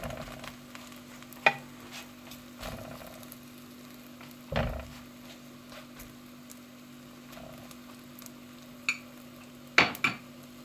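Gözleme flatbread brushed with butter cooks quietly in a pan, a soft steady sizzle with occasional clinks of utensils against cookware scattered throughout.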